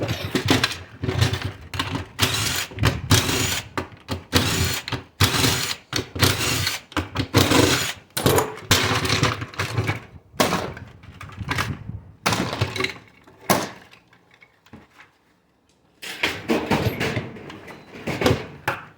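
Plastic and steel power meter parts tossed onto a trailer, a dense run of sharp clattering thunks and rattles, fairly close and loud, pausing briefly near the end before a few more knocks.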